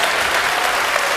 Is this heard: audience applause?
yes